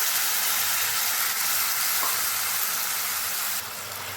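Ground spice paste sizzles in a pan of onions fried until reddish, a steady, close, loud hiss of frying for egg lababdar, with no voices.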